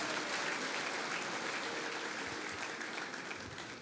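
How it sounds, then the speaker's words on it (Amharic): A worship crowd at a Pentecost church service applauds in a steady, dense roar of clapping that holds evenly for several seconds, fairly distant and with no talking over it. "ሃሌሉያ ቴንክ ዩ ብላችሁ አጨብጭቡለት"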